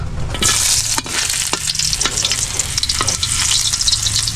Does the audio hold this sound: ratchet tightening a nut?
no